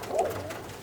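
A Birmingham Roller pigeon in Tacoma, Washington gives a single soft, brief coo, faint against low background noise.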